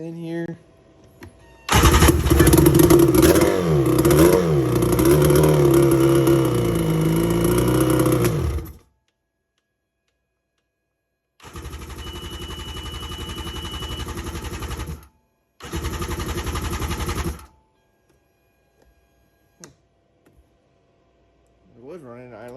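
A two-stroke jet ski engine cranks and catches, running loud and uneven for several seconds before cutting out, then two shorter bursts of running follow, with voices heard around it.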